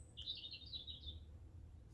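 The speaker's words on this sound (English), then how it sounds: "There's loads of robins around here, loads of them." Robins sing along a countryside trail near Culross in Fife, Scotland, a bright chirping phrase lasting about a second over a low steady outdoor rumble, fairly faint and with no voices.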